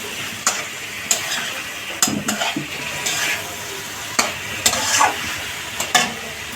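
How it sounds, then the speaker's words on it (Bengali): Vegetables being sautéed in the soaking water from lentil dumplings (bori), with a steady sizzle under repeated spoon scrapes and clinks against the pan at an uneven rhythm, close and fairly loud. "কষাবেন কিন্তু এই বড়ি দেওয়া জলটা দিয়েই কষাবেন"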